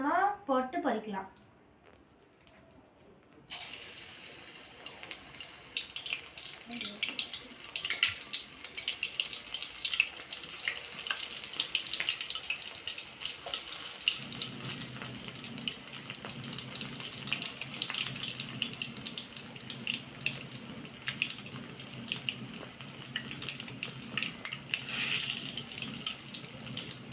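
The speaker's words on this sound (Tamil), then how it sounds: "நம்ம செஞ்சு வச்சுருக்க கார்னை இப்போ கொஞ்சம் கொஞ்சமாக போட்டு பொரிக்கலாம்." Sweet corn pakkoda fries in hot oil with a continuous bright, crackling sizzle that carries on steadily after a brief voice at the start.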